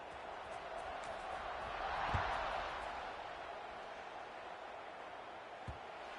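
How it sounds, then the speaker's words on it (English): Steady crowd murmur fills a college football stadium as Boston College prepares a kickoff, swelling briefly near the middle, with a couple of faint thumps and some broadcast commentary in the background. "this crowd is buzzing after that last score"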